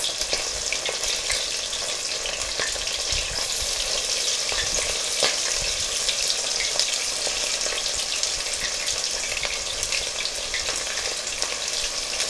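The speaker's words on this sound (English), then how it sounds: "here's one drawback from frying it in the oil is the popping" Chicken for a honey orange dish frying in a skillet of hot oil, with a steady dense sizzle and frequent sharp grease pops crackling throughout, close and loud, no talking.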